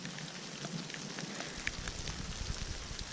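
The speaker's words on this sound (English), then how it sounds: "It's still raining pretty good." Steady rain falls on a mountain trail just after a hailstorm, a dense continuous patter with scattered louder drops hitting close by, and no voices.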